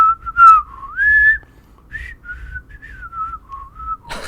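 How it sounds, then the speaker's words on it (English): A person whistles a solo melody alone, with clear, gliding notes and short pauses, close and fairly loud over a faint low background. "Let me do a whistle solo."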